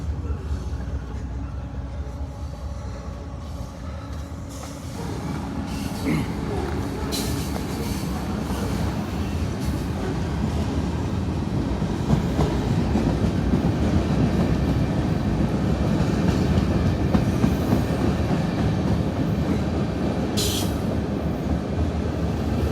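A CSX freight train rumbles past on the Henderson subdivision near Evansville, Indiana, a steady loud low roar of rolling cars that swells after a few seconds and holds, with faint rail squeals and clicks and no talk.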